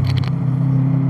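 Dump valve on a Subaru Impreza WRX with an STI engine blows off in a quick fluttering hiss over a deep, steady engine rumble, close and loud.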